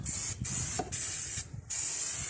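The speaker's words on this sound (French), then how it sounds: "petit coup de nettoyant frein." Loud hissing brake cleaner aerosol spray in three long bursts separated by brief pauses, close up, during servicing of a Seat Altea 2.0 TDI.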